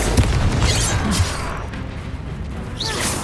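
Confringo fire spell blasts from Hogwarts Legacy in a noisy duel, dense booming bursts at the start and again near the end over a continuous rumble of combat effects.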